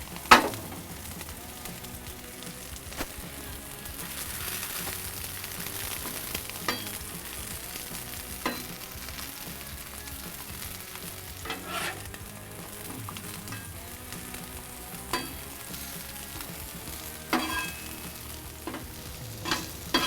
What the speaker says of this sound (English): we're going to grill up some onions